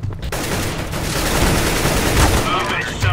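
Rapid bursts of video-game gunfire crackle continuously and loudly through the whole stretch, with excited shouting players mixed in underneath.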